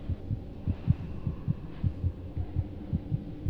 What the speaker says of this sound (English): Can I hear the heartbeat? Is that us? Yeah, that was our heartbeat.